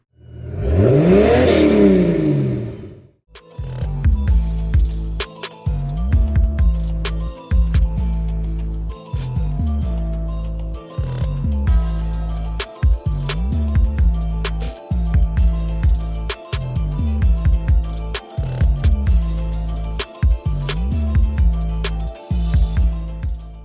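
A Ford Ranger's 2.3 engine running with its muffler gone and the tailpipe dangling, a loud opening rev swell followed by a steady series of rhythmic blips of raw, unmuffled exhaust over about twenty seconds, with no talk.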